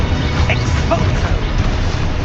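Expulso explosion spell in the video game Hogwarts Legacy, a brief loud booming blast with crashing low rumble filling the whole moment.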